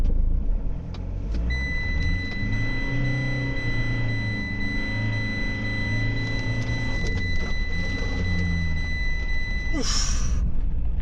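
Car wheels spin on a muddy uphill slope, the engine labouring in a steady low rumble with a brief high whine near the end.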